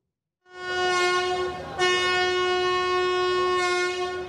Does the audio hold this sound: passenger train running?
yes